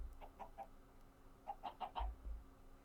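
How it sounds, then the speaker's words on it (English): Chickens cluck in a hardcore-mode video game: three soft clucks, a short pause, then a quicker run of four or five, all fairly faint with no talking. "More chickens."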